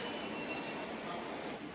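Kalyan-bound local commuter train at a station platform, a steady loud rumble of the moving train with a faint high metallic whine, continuous and close, with no speech.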